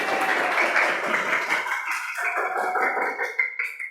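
Students in a class clap together on cue, a dense burst of hand claps that thins out and grows more scattered toward the end, fairly close and loud with no talking over it.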